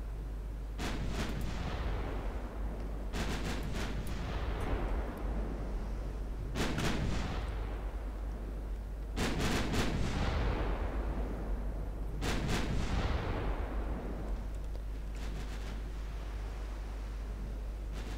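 Heavy naval turret guns firing in Ultimate Admiral Dreadnoughts, a World War I–era Italian battleship engagement: five or six loud booming salvos, each a cluster of sharp reports trailing into long rumbling decay, spaced a few seconds apart, with no talk.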